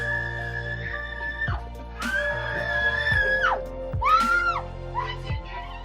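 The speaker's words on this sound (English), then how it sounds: "Hopefully she doesn't need a hearing aid after that scream." A woman shrieks in surprise at a soldier's homecoming, several high, wavering screams in quick bursts, loud and close against a background hum.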